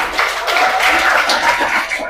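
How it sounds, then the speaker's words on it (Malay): A classroom of students gives a short round of applause for a classmate, quick scattered clapping from many hands close by, brief and lively. "Bagi tepukan untuk kawan."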